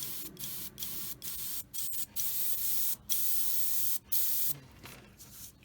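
Airbrush spraying Mission Models paint at 12 psi, giving short bursts of close, soft hiss separated by brief pauses, about seven or eight sprays in a row with no voices.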